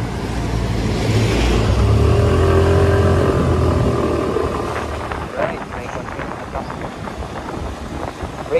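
Suzuki Burgman Street 125 scooter accelerating, a loud rising engine drone with heavy wind buffeting that eases off partway through, no one talking.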